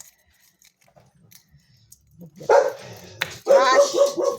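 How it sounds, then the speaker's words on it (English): A dog barks a few sharp times close by after a quiet stretch, with faint background noise before the barking starts. "She barks at any noise that she hears"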